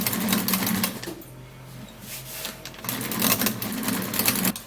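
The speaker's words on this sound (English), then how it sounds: "I would love to use my manual mixer to do that. So I'm going to stir it all up" A hand-cranked manual mixer stirring a homemade skin remedy mixture, giving a close, continuous whirring and rattling that swells, dips in the middle, then picks up again.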